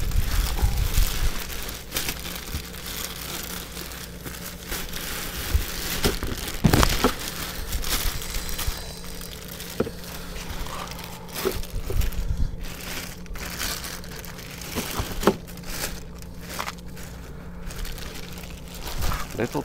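Crinkling and crushing rustles come from a BYD Seal glass roof sun shield being folded, in irregular bursts of close fabric and frame noise.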